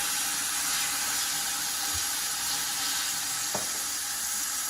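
Onions and celery sizzle in a soup pot, a steady frying hiss with a soft scrape of stirring partway through, close and continuous.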